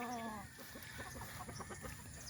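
A White Kelso cross gamecock rooster clucks in a short run of soft, rapid, evenly spaced clucks close by, after a brief higher call at the start.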